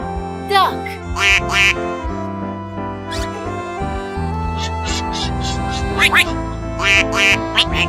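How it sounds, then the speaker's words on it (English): A duck quacks in several bright, clipped bursts over a continuous musical backing. "Duck."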